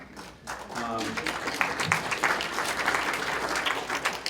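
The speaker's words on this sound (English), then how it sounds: "Don't applaud yet." Applause breaks out from a conference audience at an occupational safety gathering, a full crowd clapping steadily after a voice trails off at the start.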